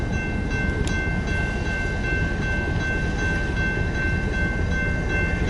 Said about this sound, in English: they're reversing their train into